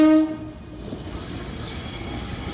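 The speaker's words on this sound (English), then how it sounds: "Sick horn. Sounds like Barney Fife trying to sing." An Amtrak train horn at Princeton Junction, New Jersey sounds a loud harmonic chord that cuts off quickly. Rail noise and the rumble of a passing train carry on after it.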